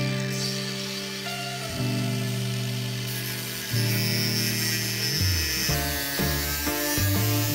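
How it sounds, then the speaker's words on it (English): A power tool trims polyester filler to fit inside the aluminium foil retainer of an in-mast furling system on an Amel sailboat, a high whining drone that shifts pitch several times as it cuts, with no talk. "So I just needed to trim it a little bit to fit inside the foil retainer."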